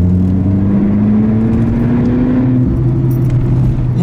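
A DS3 Performance car drives along a tight, twisty road, its engine droning loud and steady from inside the cabin, the pitch climbing gradually and then settling.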